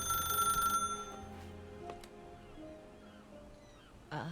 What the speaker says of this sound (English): Get a phone call, sorry.